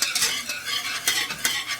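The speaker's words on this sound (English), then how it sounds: "You're just going to continue to stir it until all of your cheese is melted and it's nice and creamy." Cheese sauce being stirred in a pan for nachos, the spoon or whisk scraping and clinking against the metal in short, uneven strokes, fairly close and with no talking.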